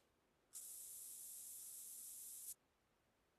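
A steady two-second hiss of scent spray in a hunting video game, cutting in abruptly and stopping just as abruptly, loud against a quiet background with no talking.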